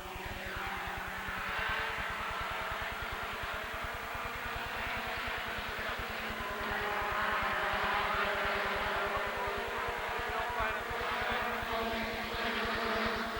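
Stock cars racing at Rockford Speedway, a steady, loud engine drone with a rapid pulsing throb as the pack circles, swelling slightly as cars close in.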